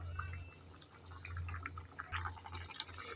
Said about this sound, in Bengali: এবার ঝোলটাকে আমি এক মিনিট ভালোভাবে ফুটাবো